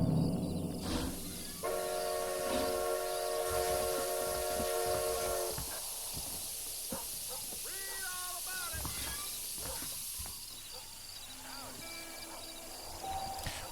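A steam train arrives at Armadillo Station in Red Dead Redemption on PS5, with hissing steam, a sustained whistle tone, rail clanks and a few squealing chirps. The sounds stay moderately loud throughout.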